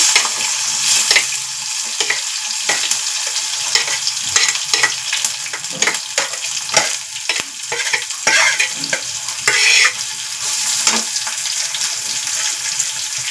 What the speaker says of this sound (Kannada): ಈಗ ಇದನ್ನು ಸ್ವಲ್ಪ ಕೆಂಪಾಗ ಎಣ್ಣೆಯಲ್ಲಿ ಈ ಥರ ಹುರ್ಕೋಬೇಕು